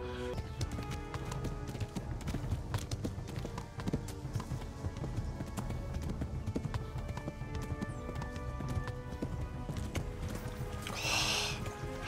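Horse hooves clip-clop steadily in the medieval world of Kingdom Come: Deliverance, a continuous busy game soundscape with music and effects, a brief whinny-like burst near the end.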